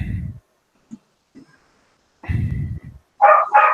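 A dog barks close by in several short bursts, separated by quiet gaps, and ends with two sharp, loud barks.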